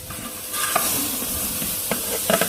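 Mutton sizzles loudly in hot oil in a large curry pot, a dense continuous frying hiss broken by a few scraping stirs close up.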